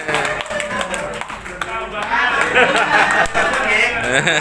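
A live audience claps for a woman at an Indonesian religious-affairs curriculum seminar, with steady applause filling the room and building slightly louder midway, chatter and voices mixed in throughout.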